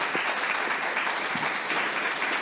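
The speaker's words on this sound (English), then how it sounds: "Let's give them a round of applause." Conference audience applauding at an Afrofuturism conference, a sustained wash of many hands clapping in a hall, steady and moderately loud with no talk over it.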